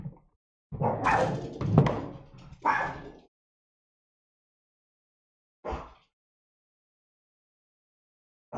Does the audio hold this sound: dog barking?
yes